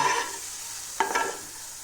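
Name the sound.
chili frying in oil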